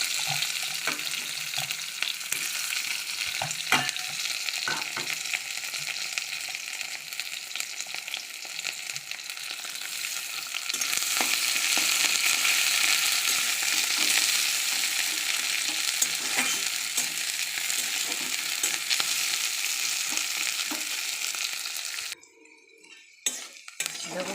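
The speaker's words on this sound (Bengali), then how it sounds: "পেঁয়াজটা ভাজা হয়ে গেছে" Chopped onion sizzles steadily in hot oil in a pan while a spoon stirs it, scraping and clinking against the metal throughout; a home kitchen preparing matar ghugni, with the frying loud and close and cutting out briefly near the end.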